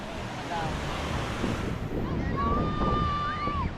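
Sea waves washing and rolling in a continuous surf roar with wind noise at Baler, plus faint tonal whines like distant engines or birds over it.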